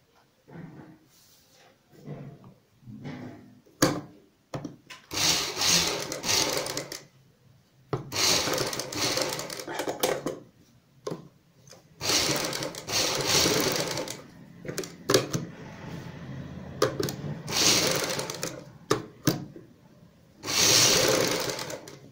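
A domestic sewing machine stitches the inside seam of a plus-size kaliyon wali kameez: loud, close whirring runs of several seconds each, broken by short pauses and brief clicks as the fabric is repositioned, with no voices.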